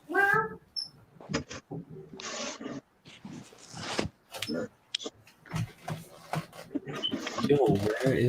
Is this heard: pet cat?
yes